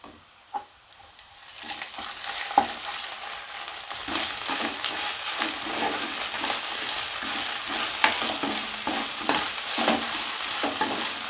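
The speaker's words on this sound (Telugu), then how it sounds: "పచ్చివాసం పోయేలాగా వేయించుకోవాలి" Ginger garlic paste fries and sizzles in a pan for a pilaf with fenugreek leaves, a steady hiss broken by occasional stirring scrapes and clinks, close and fairly loud with no talking.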